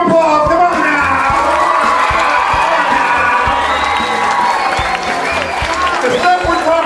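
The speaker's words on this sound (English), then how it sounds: "Give him a round of applause." Audience in a room breaks into continuous applause with whoops and cheering, loud and dense throughout, with voices shouting in the crowd.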